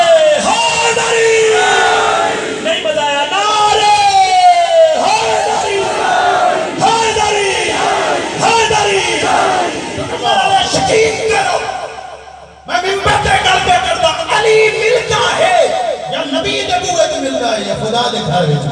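A large crowd at a religious gathering roars the slogan Nara-e-Haidari in loud, repeated collective shouts, near and powerful, with a short lull before the chanting surges again.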